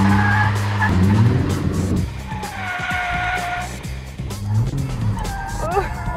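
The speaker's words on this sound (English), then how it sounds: "This is what we call the skid car." A skid car used for teen driver training slides with tires squealing in long rising and falling whines, close and loud over engine rumble, with people talking over it.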